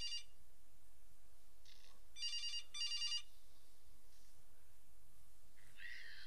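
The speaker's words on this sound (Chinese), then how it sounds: "我要去接那个电话了" A telephone rings in the horror video game CASE: Animatronics, with short bursts of bright electronic trilling near 2 and 3 seconds over a quiet, hushed room tone.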